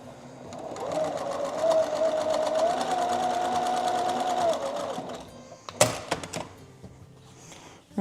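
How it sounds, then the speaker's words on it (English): A home sewing machine hums steadily as it stitches pieces of a red, white and blue flag quilt, runs for about five seconds and then stops. A few sharp clicks and handling knocks follow. "I'm just going to do 2 at a time and then sew those to each other."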